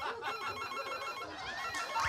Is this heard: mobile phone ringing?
yes